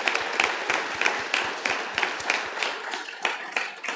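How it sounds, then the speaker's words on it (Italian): Wedding guests applaud right after a couple is declared husband and wife at a church ceremony, a steady mid-distance round of clapping with sharp individual claps standing out. "Potete fare un applauso?"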